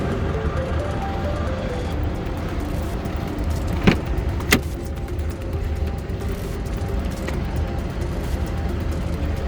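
A salvaged 2019 Land Rover Range Rover Velar idles with a steady, full engine rumble close by, and two sharp knocks or clicks break through the middle of it.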